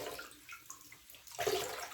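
A synthetic wig is squeezed in a basin of soapy water, giving a few soft, faint sloshes and squelches followed by a louder wet swish near the end. No speech is heard.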